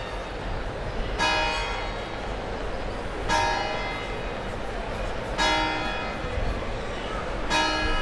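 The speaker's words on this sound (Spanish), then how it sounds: "mientras escuchamos las campanadas dando las 12 en punto" Church bells strike twelve noon at an outdoor Armed Forces Day ceremony, four clear ringing peals spaced about two seconds apart over a steady crowd and broadcast background hum.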